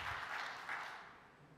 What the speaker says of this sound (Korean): 하나님 앞에 영광의 박수 한번 올려드릴까요?